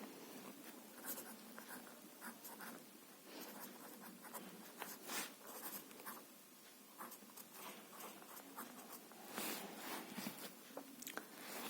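Pen strokes scratching across paper while writing shorthand, a steady run of light and heavy strokes with short pauses between them, close and fairly quiet with no voices.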